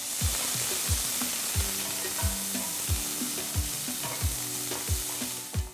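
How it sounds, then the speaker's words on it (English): Finely chopped onion frying in oil with whole cinnamon, clove, cardamom and stone flower for a dhaba-style green peas curry, a steady sizzle with regular low thumps of stirring spaced about every half second, no talking. "To this, add 1 large onion finely chopped."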